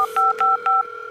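Three short two-tone keypad beeps over a steady dial tone as a telephone number is dialed, clear and close with no talking.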